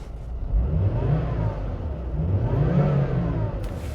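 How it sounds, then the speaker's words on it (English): A 2005 Volvo S60 2.0T five-cylinder engine running, rising and falling in steady revs as a muffled, continuous hum heard from inside the well-insulated car. "that is good 5-cylinder noises"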